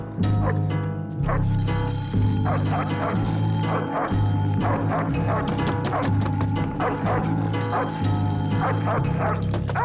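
A dog barks repeatedly in a rapid, uneven series over steady tones and background noise on a sitcom set.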